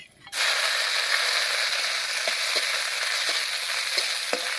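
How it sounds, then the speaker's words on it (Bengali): Steady, loud sizzling of cashews and raisins frying in hot ghee, with a few soft clicks of stirring scattered through. "একটুখানি কাজু আর কিশমিশ ভেজে নেব"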